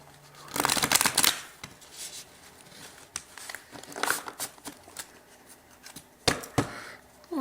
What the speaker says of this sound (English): that's enough shuffling